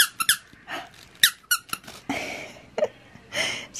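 Rubber squeaky dog toy squeezed repeatedly indoors, giving a string of sharp, close, high squeaks in irregular bursts, some short and some drawn out.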